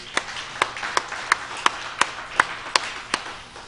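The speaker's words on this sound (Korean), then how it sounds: "우리 모두 하나님께 감사의 박수를 한번 힘차게 올려드리십시다" A church congregation claps in a Sunday worship service, about ten sharp, evenly spaced claps in steady rhythm, close and distinct over a quiet room.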